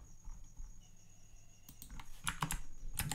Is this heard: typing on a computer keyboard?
yes